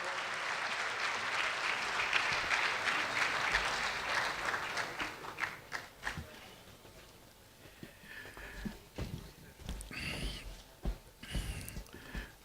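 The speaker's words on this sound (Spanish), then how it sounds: "Con el aplauso nosotros acompañamos la entrega de este reconocimiento." Audience applause during an award presentation at an anniversary event, a sustained burst of clapping for about five seconds that then fades into scattered claps, shuffling and faint murmurs.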